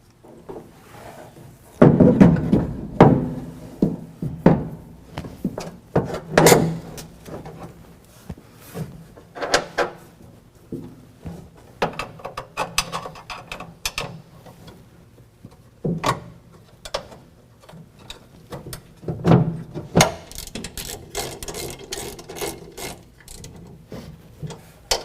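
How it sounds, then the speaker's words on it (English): Fuel pump bolts on a truck bed-mounted fuel tank and toolbox combo are tightened with a 9/16 wrench, producing irregular close metallic clicks, scrapes and knocks with short pauses between bursts. "We're going to line everything up, put the bolts back in, tighten them down with a 9/16."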